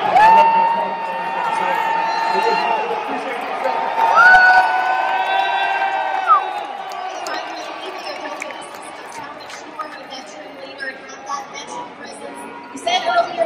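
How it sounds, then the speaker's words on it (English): Crowd at a Boston Celtics basketball game in an arena, loud layered shouting, whoops and chanting of a name from many voices, close and sustained before fading into chatter and scattered shouts. "hear them shout your name and cheer for you like this?"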